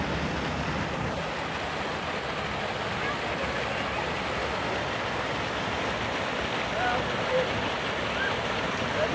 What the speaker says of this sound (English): If you can hear me above the waterfall.